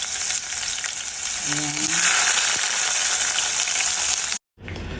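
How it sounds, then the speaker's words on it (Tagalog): Tomatoes hitting hot oil in a home-kitchen pan where ginger is already cooking, giving a loud, continuous sizzle and crackle with stirring. The sizzle cuts out sharply near the end, and a voice speaks briefly. "At isusunod ko ang kamatis dahil gusto na gusto ang kamatis."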